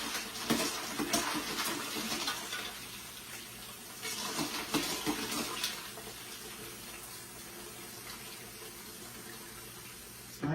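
Well water pours steadily into a gallon container for tea, a continuous close gush and splash that grows louder in bursts near the start and then settles to a smoother flow.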